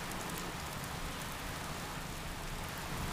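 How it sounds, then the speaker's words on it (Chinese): Steady rain falls outdoors, an even, dense hiss of drops on surfaces that holds constant at low level with no voices over it. "冰冰，下雨了，早点走吧。"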